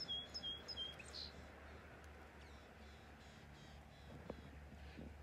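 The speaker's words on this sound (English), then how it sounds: "there's birds all around me" Birds chirping outdoors: a few short, bright tweets early on, then faint calls over a low steady hum and background rumble.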